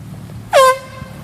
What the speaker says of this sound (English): Those horns you are hearing is them sounding an alarm or making an emergency sound so people know there is a boat in the area